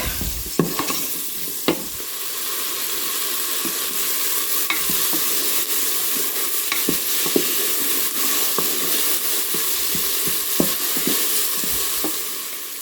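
Salted and peppered cabbage cooks in a pan with a constant hissing sizzle, broken by scattered scraping clicks from stirring.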